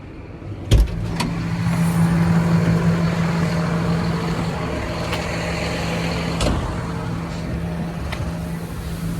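A JCB digger works near a farm grain pit during harvest, its engine a steady low rumble with a sharp knock early on and another clank later, continuous and fairly close.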